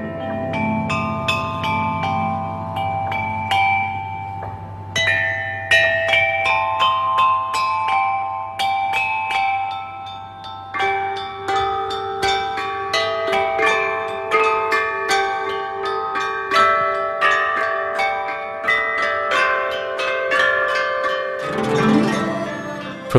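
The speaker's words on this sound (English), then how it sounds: "the orchestra has given performances showcasing ancient chime bell melodies" Ancient Chinese bronze chime bells of Marquis Yi ring out a melodic performance, with clear struck tones layering and decaying over a steady low drone, loud and continuous.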